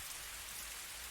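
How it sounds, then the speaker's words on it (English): Steady rain falls in a continuous, even hiss with drops pattering on surfaces, close and fairly loud, with no other sounds. "Nothing remained but the sound of rain."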